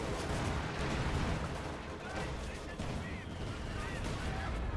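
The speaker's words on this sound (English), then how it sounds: "Excellent hit with the howitzer" Howitzer hit in Company of Heroes 2, deep rumbling impacts and battle noise in a dense, continuous wash of distant artillery and gunfire, with a voice talking underneath.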